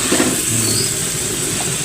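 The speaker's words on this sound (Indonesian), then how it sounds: "Ini orang goreng asin." Salted fish sizzles steadily in hot oil, a dense crackling hiss heard up close without any voices.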